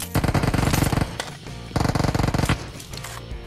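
Uzi submachine gun fire in a solo-versus-squad shooter game: two loud, rapid automatic bursts, each about a second long, separated by a short pause and followed by quieter trailing shots.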